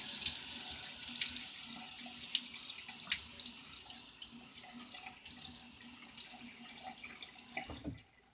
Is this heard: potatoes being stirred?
no